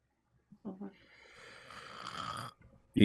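A voice imitates snoring in a drawn-out nasal rasp that builds and fades, preceded by brief voiced sounds and followed by a sudden loud noise at the end.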